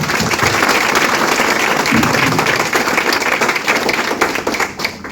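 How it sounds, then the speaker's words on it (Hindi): Audience at a Vestige direct selling business meeting in India breaks into loud, dense applause, steady clapping throughout that thins slightly toward the end. "तो इसके लिए तालियां होनी चाहिए"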